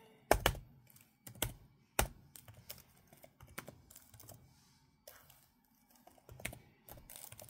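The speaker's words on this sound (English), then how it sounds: "Now we're going to go ahead and type in my email." Keys clatter in irregular bursts as an email address is typed on a computer keyboard, with sharp clicks and a few heavier key thunks, close up and quiet with no talking.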